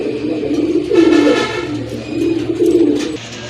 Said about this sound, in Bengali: এই যে দেখেন ডাকতেছে, এইটা কিন্তু নর কবুতর।